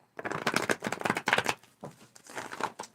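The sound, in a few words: shuffling tarot cards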